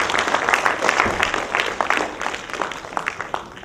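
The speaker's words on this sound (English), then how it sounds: "first give a big round of applause for our organizing committee" Audience applause at an IEEE conference session honoring the organizing committee, a dense patter of clapping that holds steady throughout and tapers slightly at the end.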